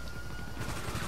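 Double-barrel shotgun in GTA V, a dense, loud burst of blasts lasting about a second with no speech.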